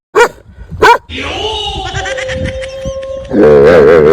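Two sharp dog barks ring out close by, followed by a long whining, howling cry and a wavering yelp at the end.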